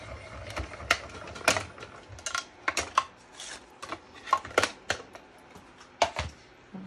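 A die-cutting machine cutting paper with metal dies and warped plates, giving a series of sharp close clicks and clacks in an irregular rhythm, with no voices.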